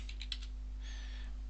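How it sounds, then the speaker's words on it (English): A loud computer keyboard typed in a short burst of about four quick keystrokes early on, alone against a steady low hum with a faint tone afterward. "excuse my keyboard because it is quite loud"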